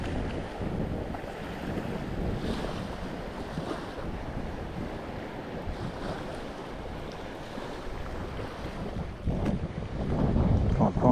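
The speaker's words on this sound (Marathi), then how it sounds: "वारा सुटला आहे जोरात. जोरात वारा आला. खूप जोरात." Strong wind on a Konkan beach roars steadily across the mic in a dense, low rumble, with gusts building louder near the end and water surging underneath.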